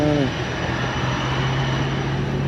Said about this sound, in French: On se rapproche de l'avion, il n'est pas trop grand.